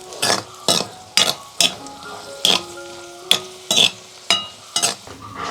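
Raisins frying in a hot pan for violet payasam, crackling sizzle under a series of evenly spaced scraping stirs with a metal spoon, close and loud, about eight strokes with no talking.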